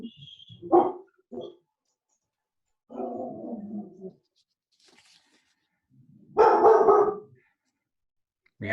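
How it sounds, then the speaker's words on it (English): Maya the dog barks in short separate bursts spread across several seconds. Each bark is close and fairly loud, with quiet gaps between them and no talk over them. "dog saying hello"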